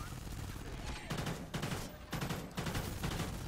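Gunfire in Call of Duty Ghosts Extinction mode comes as sustained bursts of rapid shots in several clustered volleys, loud and close, with faint talk mixed in.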